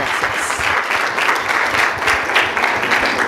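A church congregation applauds, sustained dense clapping from many hands filling the room at a loud, steady level.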